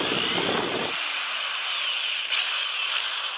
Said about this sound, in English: So we're gonna test drill a couple bits.